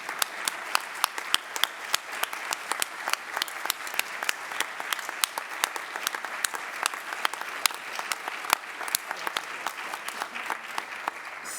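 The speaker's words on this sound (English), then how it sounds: "Can we have the local organizing committee stand up so we can also give them all a round of applause?" Sustained, dense applause from a conference audience honouring the local organizing committee at an academic gathering, steady crowd clapping with sharp individual claps throughout, moderately close and unbroken.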